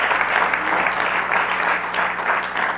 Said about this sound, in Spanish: Démosle un aplauso fuerte al Señor.